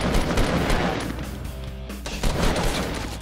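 Gunfire in the Fortnite Battle Royale video game, a dense stretch of rapid shots and cracks running almost continuously at close range for a few seconds, with no speech over it.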